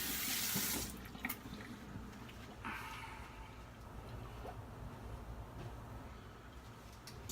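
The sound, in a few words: tap water running in sink, rinsing after shave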